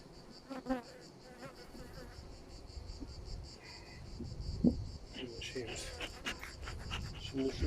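Honeybees buzz steadily and close around an open hive during a September hive check, a dense droning hum with a person speaking quietly now and then underneath.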